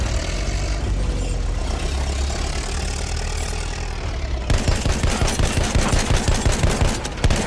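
Machine gun fire in a video game starts as rapid, evenly spaced bursts of loud, close automatic shots, following several seconds of heavy engine rumble.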